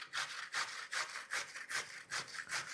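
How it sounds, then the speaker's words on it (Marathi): Indian gooseberries (amla) are rubbed against a grater in quick, even rasping strokes, about six in under three seconds, close and fairly quiet with no talking. "पण पहिले आवळे किसून घेऊ."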